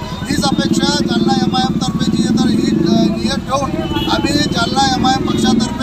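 Motorcycles in a tricolour flag bike rally in Jalna give a continuous low engine rumble beneath loud crowd voices and shouting, holding steady throughout.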